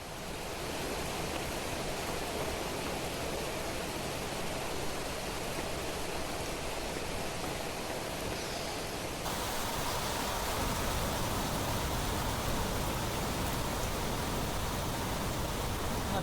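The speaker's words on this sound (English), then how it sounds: "It's almost done raining." Rain falls steadily in the video game The Planet Crafter, a constant broadband hiss like a heavy downpour that stays even and loud throughout, with no voices.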